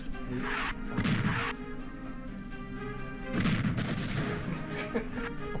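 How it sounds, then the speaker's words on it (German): A glitchy explosion in a Superman video game, heard as two loud crashing bursts, one at the start and another about two seconds later, over a steady game soundtrack hum. "die Explosion ist glitchy"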